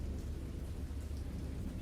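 Steady heavy rain with low rumbling thunder in the horror game Dagon, a dense continuous wash filling the whole stretch with no voices.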